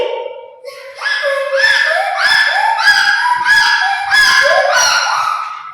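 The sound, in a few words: child imitating a donkey braying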